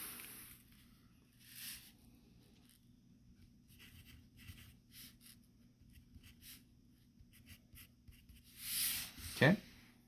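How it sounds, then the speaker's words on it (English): A pencil writes an answer on paper beside an architect scale ruler, soft intermittent scratchy strokes close by, faint and broken up, with a voice talking over them. "And we just simply write it in right here."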